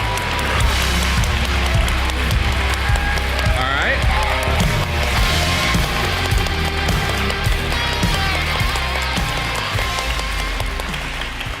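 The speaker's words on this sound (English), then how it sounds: "So if I get the biggest round of applause right now for this wonderful group of people." Conference audience at BSides Orlando 2024 applauding the volunteers, a dense, steady wash of clapping from a large crowd that fills the room, loud and continuous throughout with no break.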